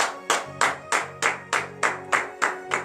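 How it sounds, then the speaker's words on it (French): A congregation at a morning prayer service in Benin claps in acclamation, a loud, steady beat of about nine evenly spaced group claps over a low sustained hum. "Donne de vives acclamations à notre Seigneur Jésus."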